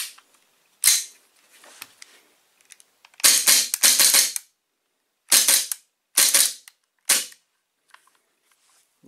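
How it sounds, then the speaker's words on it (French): Rapid bursts of shots from a CZ SP-01 Shadow gas blowback airsoft pistol, loud sharp cracks fired singly and in quick doubles with short gaps between, no talk over them. "vous pouvez enchaîner vraiment les tirs à une bonne petite vitesse"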